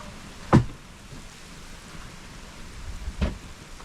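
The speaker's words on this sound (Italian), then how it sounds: "Sta venendo giù acqua." Heavy rain pours down over a campervan parked at Nazaré, Portugal, an even, moderate hiss with two sharp, loud thumps or knocks standing out near the start and toward the end.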